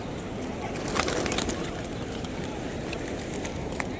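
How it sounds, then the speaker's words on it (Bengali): A big flock of pigeons gathers in an open public square in Saudi Arabia, soft coos and wing flutters blending into a steady wash of outdoor crowd noise. "ঝাঁকে ঝাঁকে কবুতর,"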